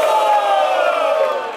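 A loud, close crowd roars and shouts in support of the rapper Grafite at a Brazilian freestyle rap battle, Batalha Marginow, one sustained wave of cheering and yelling voices.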